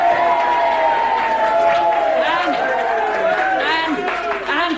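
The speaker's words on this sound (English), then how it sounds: "A cheer for our principal, for Monsieur Dufau, and for Monsieur Guadet." Audience in a play cheering for a school principal and two gentlemen, a close crowd of overlapping shouts and rising whoops over continuous chatter.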